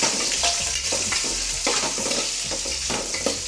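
Garlic with ground pepper sautés in a pan for a chilli chicken dish, a steady close sizzle broken by repeated scraping stirs of a spatula, loud and continuous with no talking.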